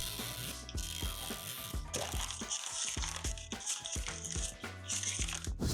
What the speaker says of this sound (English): let's open the last ball of this series.